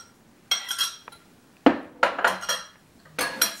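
A spoon clinks and scrapes against a bowl while almond flour cookie dough is worked together, several separate bright knocks and scrapes in small clusters with quiet gaps between them.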